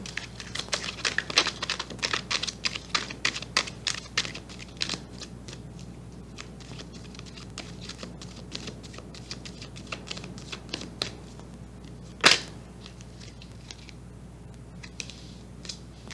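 Tarot cards being shuffled and drawn up close, a quick run of soft papery flicks and riffles, followed by sparser light taps and one sharp slap of a card, with no talking.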